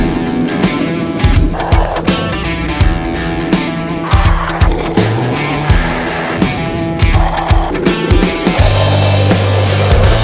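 Cruiser skateboard rolling over pavement, a continuous gritty wheel rumble with repeated clacks and bumps from cracks and kicks, close and loud throughout with no talking.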